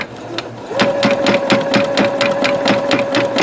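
A Singer Futura Quintet sewing machine stitches metallic thread, a fast, regular mechanical needle clatter with a steady hum running underneath, close and fairly loud with no talking.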